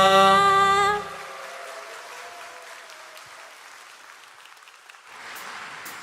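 A church congregation applauds, a loud burst of clapping right at the start that quickly fades into a quiet, distant room ambience.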